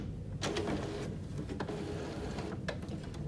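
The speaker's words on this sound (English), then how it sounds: "Give the printer a second to relocate the ink cartridges." HP inkjet printer (HP 902 ink series) with its cover open, shifting its ink cartridge carriage into position, a steady close mechanical whir with a few brief clicks and knocks, no voices.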